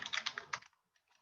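Quiet, quick keystrokes on a computer keyboard while writing code, a short burst of clicks trailing off into near silence.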